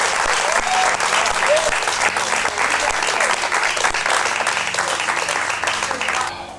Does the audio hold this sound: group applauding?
yes